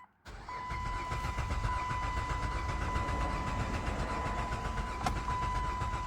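Engine of a 2008 Dodge Avenger with 121,000 miles that only starts with the throttle pressed, cranking over with a steady, fast, even chugging that continues without catching, close and moderately loud.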